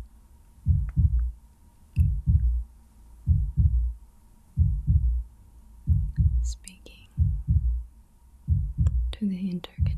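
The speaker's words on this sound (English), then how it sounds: "recognize the heartbeat as a universal language." Slow, steady heartbeat thuds in paired lub-dub pulses, deep and throbbing, repeating about every second and a half over a faint hum, with a few brief airy whispers near the end.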